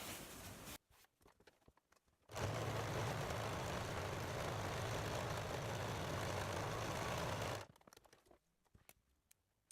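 A sewing machine runs a line of stitching on a reusable fabric produce bag, going back and forth at the ends of the seam: a steady, continuous motor whir for about five seconds, framed by near silence.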